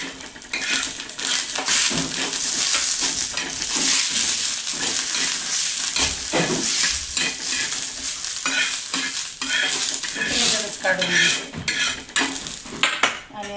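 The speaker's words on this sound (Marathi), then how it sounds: "खोबरं भाजून घेते गॅस थोडा मोठा केला आहे तेल टाकले" Grated coconut roasting in hot oil in a pan over a raised gas flame, steady sizzling with frequent scraping and stirring strokes of a utensil against the metal, loud and close throughout with no talk.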